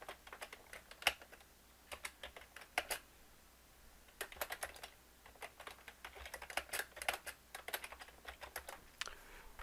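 Someone types a company name on a computer keyboard in QuickBooks Online, producing quiet, close key clicks in irregular bursts with short pauses between them.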